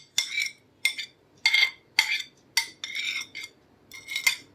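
Chopped tomato and pepper are mixed in a bowl for Mosul-style arook with a spoon, giving about eight rhythmic scraping, clinking strokes, close and crisp with no speech.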